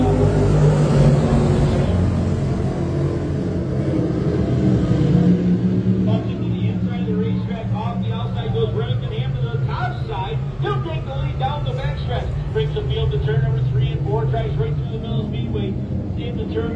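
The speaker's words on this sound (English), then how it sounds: "8 lap heat race action here tonight for the Bob Johnson Dirt Car Sportsman" Dirt track sportsman race cars roar around the oval during a heat race, a steady loud engine drone with revving swells throughout, mixed under an announcer talking over the action.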